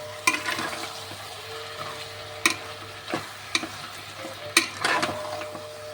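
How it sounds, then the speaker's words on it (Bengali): Spice paste with salt and avarekai (field beans) stir-fried in a pan for a Karnataka winter dish: a spatula scrapes the pan in several sharp strokes over a soft, steady sizzle, with no talking. "দিয়ে এবারে ভালো করে এটাকে কষাবো।"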